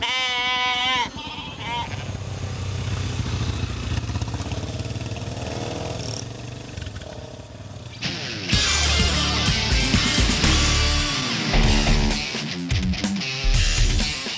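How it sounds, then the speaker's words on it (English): Sheep bleat several times in a rural field on a rainy day, wavering cries standing out clearly at the start, followed by a motorcycle engine roaring up and revving loudly nearby. "Where's them sheep gone?"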